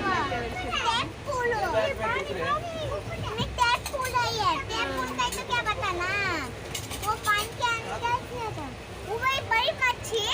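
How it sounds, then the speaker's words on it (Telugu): Children shout, squeal and chatter excitedly over a steady low rumble, with overlapping high-pitched voices throughout. "మా పిల్లలు అయితే ఆడుకుంటూ ఉన్నారు"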